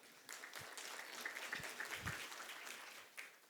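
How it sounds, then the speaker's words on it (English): An audience at a keynote session on tax compliance claps in a continuous, moderately quiet round of applause with a few louder thumps, heard from within the hall. "Let's give a huge round of applause for Mr. Biswa."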